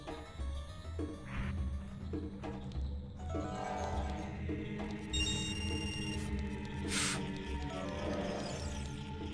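In Zelda: Ocarina of Time, a Song of Time block materializes with a shimmering, ringing chime over a low pulsing game soundtrack, quiet and without speech.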